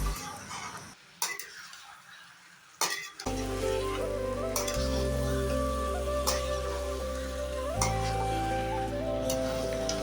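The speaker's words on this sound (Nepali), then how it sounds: "अघि फ्राई गरेर राखिसकेको कटरलाई चाहिँ एड गर्दैछु र मसलामा मजाले मिक्स गर्दैछु" Fried jackfruit pieces and potato are stirred into masala in a pan, giving a steady sizzle with scraping strokes and a few utensil clicks beneath a sustained tonal background, with no speech.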